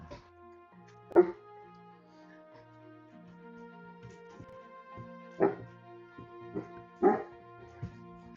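A neighbor's dog barks in separated bursts, a few loud single woofs spaced seconds apart over a steady background hum, fairly close by.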